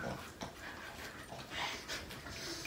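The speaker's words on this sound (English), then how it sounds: "They're not dogs, they're two little mini pigs. They sound like it." Two small mini pigs grunt and pant in a doglike way, a steady breathy huffing with short snorts and squeaks, close by and fairly loud, with no talk over it.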